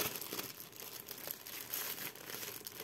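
Plastic and cardboard packaging from an EZVIZ BC1 battery camera kit rustles and crinkles continuously as it is unpacked, faint and close.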